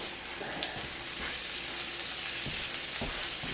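Potatoes fry in a pan over a cooking fire outdoors, giving a steady, dense sizzle and crackle at close range. Faint clicks and stirring sounds are scattered through it.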